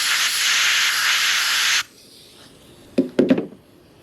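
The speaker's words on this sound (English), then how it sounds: "Now I'm going to take the air hose and gently blow into the hole so it spreads that last coating out evenly inside there." Compressed air from an air hose hisses steadily into a hole in a Ranger boat compartment lid hinge for almost two seconds, then cuts off, followed by a few close, quick knocks and handling sounds.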